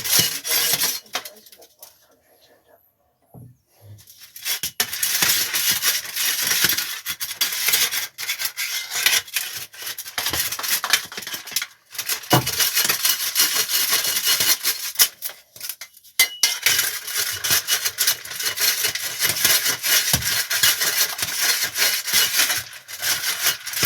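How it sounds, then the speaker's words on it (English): Compost rubbed and shaken through a garden sieve while preparing a mix for sowing chilli seeds, a steady close scratchy rasping that keeps going with brief pauses and stops, and no talking. "So I'm going to sieve this, and I'm going to add some vermiculite just to assist with the drainage."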